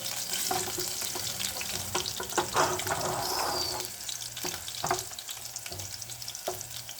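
Garlic fries in oil in a pan for an aloo hari pyaz sabzi, giving a steady close sizzle broken by intermittent stirring scrapes and clinks, with no talking.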